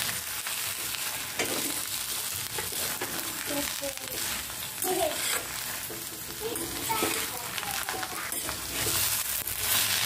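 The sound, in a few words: stirring and frying spiced vegetable filling for dosa in a pan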